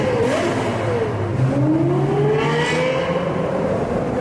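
A supercar engine revs steadily and loudly, its pitch sweeping up and down across about four seconds, close and unbroken, with no voices over it.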